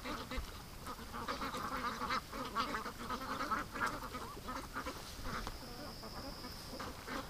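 A group of ducks, including Muscovy ducks, quacking continuously nearby on a lake, raspy overlapping calls forming a busy chatter.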